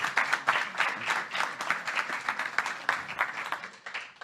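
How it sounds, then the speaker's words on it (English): An audience at a panel on crowdfunding and investor bias applauds steadily, a dense wash of clapping at moderate distance lasting several seconds with no talk over it. "let's give a big round of applause to these amazing,"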